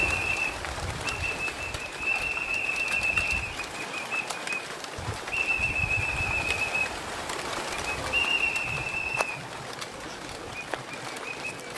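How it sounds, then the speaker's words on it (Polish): Racing pigeons coo softly in the background at a loft while a thin, high training whistle sounds in several sustained bursts. "te gołębie już sobie wchodzą"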